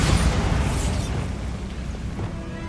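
A Bombarda blasting spell in Hogwarts Legacy goes off as a loud burst right at the start, then decays into a long rumbling tail that fades over a few seconds.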